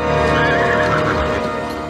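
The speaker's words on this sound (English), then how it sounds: "Big Nick the Clydesdale, chosen for his size and temperament, plays the role of Draysill, Gandalf's horse in the Hobbit movies." A Clydesdale horse whinnies loudly and close, one long continuous neigh with hoof clip-clop faint underneath.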